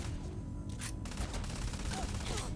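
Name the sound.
gunfire in the video game Starfield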